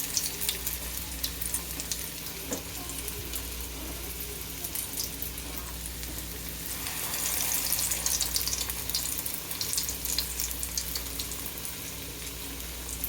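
Onion fritters (peyaju) frying in hot oil, a steady close crackle and hiss that swells slightly midway, continuous with no talk.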